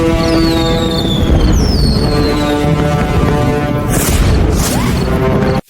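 Celebratory fireworks explosions from a film scene in Cape Fear, a dense, continuous barrage of booms and crackles with whistling rockets streaking overhead, loud and sustained before cutting off abruptly.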